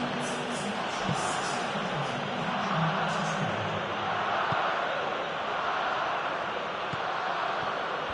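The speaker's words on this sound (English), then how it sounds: "Crowd calling for him to shoot" A stadium crowd in the eFootball PES football video game makes a steady, dense roar that swells and holds for the whole stretch, with a faint voice or two surfacing early on.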